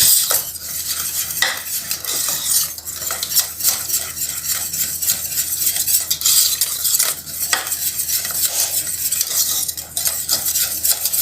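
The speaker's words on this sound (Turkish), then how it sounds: "Evet şimdi bir yemek kaşığı tereyağını oda sıcaklığında içine bırakıyorum. Güzelce karıştıracağım." Spoon stirring room-temperature butter into cake batter in a bowl for a birthday cake, a continuous close scraping and clinking with no pauses.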